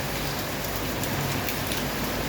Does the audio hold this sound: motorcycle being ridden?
no